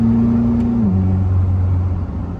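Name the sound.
Koenigsegg Jesko Absolute accelerating to overtake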